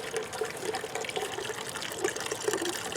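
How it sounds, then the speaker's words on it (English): Juice streaming steadily out of a homemade juicer, a continuous close liquid trickle and splash with small gurgles throughout. "Look at this juice just pouring out."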